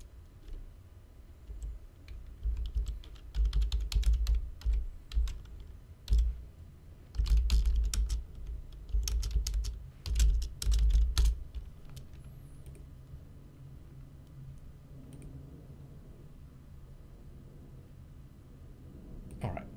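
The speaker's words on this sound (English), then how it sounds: "the fantastic sound of my keyboard is still as loud as ever" A loud computer keyboard clatters in quick bursts of typing, dense runs of sharp key clicks with short pauses, close and prominent, then fading to quiet room tone.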